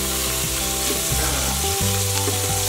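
A steak sears in an Instant Pot just after being flipped, giving a steady, close sizzle with crackling frying noise throughout and a low background hum.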